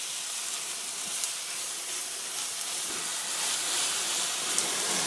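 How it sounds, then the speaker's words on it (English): Ground meat sizzling with onions in a pan, an even, close crackling hiss with tiny pops, steady throughout without any talking. "you fry it in the onions"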